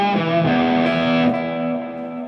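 Electric guitar played through a Line 6 Helix with echo placed before the gain: a sustained distorted chord rings out with repeating echoes layered on top, loud and close, decaying slowly over about two seconds with no talking.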